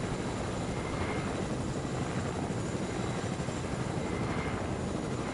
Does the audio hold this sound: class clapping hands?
no